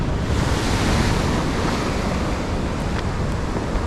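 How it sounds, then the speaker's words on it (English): Large ocean waves break offshore in a steady, loud roar of surf, with wind buffeting the microphone throughout. "Look at the size of the waves out the back there."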